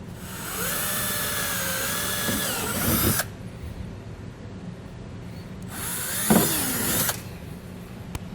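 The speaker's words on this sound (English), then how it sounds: "We're going to drill out the bottom two, or the center of the bottom two rivets." A power drill whines loudly in two bursts while drilling out rivets on a 2013 BMW X5, revving steadily then cutting off, with a short quiet gap of faint background between them.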